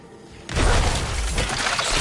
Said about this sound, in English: Our trusty hammer smashes through everything